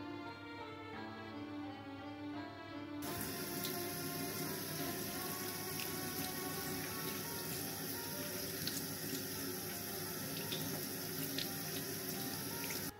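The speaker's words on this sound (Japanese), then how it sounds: "両端を行ったら白い泡は水で洗い流しておきましょう。" Cucumbers rinsed under a running kitchen tap after their cut ends have been rubbed, a steady close rush of water starting abruptly and continuing without a break.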